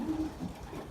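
Old racing pigeons cooing in a loft on a cold day, a soft low coo repeated twice, close and quiet over a faint background hum.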